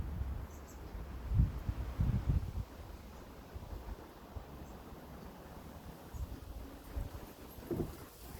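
Wind gusting hard outdoors on a blustery day, a broad rushing roar with buffeting gusts and microphone rumble that rise and fall throughout.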